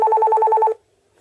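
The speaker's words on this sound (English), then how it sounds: "Get a little notification." A Sonix7 Android tablet gives off its email notification, a short two-tone electronic chime that pulses rapidly and evenly for under a second, then cuts off into silence.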